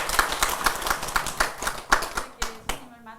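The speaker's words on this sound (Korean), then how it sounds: "박수로 하세요" A seated audience at a Buddhist dharma lecture claps together in a lively burst of sharp, rapid hand claps that thins out and stops within a few seconds, with a voice briefly heard as it fades.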